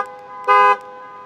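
A short, loud car horn toot from a Jeep Wrangler 392 Rubicon with a V8, a single steady blast lasting about a quarter second over a quiet background.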